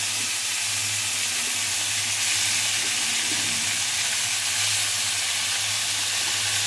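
Salted, mashed mustard greens frying in hot oil with nigella seeds and green chillies for a vegetarian dish, giving a steady close broadband sizzle with a low hum underneath, no talking.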